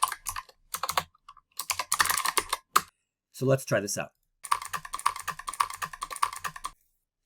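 Bursts of fast typing on a computer keyboard come in several clusters of close, crisp clicks separated by pauses, while a person speaks briefly between them.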